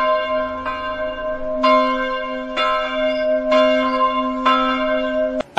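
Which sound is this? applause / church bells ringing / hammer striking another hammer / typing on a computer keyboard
church bells ringing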